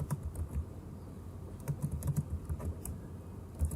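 Steady computer keyboard typing while entering Python code, a run of close, light key clicks with short pauses and no voices.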